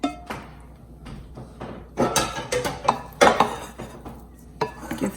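Shrimp tipped into a pot of penne Alfredo and stirred, producing clattering metal-on-pot scrapes and clanks in irregular bursts with a soft sizzle underneath, close by, with no speech.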